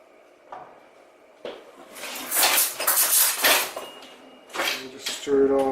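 Macaroni is stirred with butter, flour and grated cheese in a hot pot, giving loud close scraping and clattering bursts of spoon against metal, with a voice briefly audible near the end.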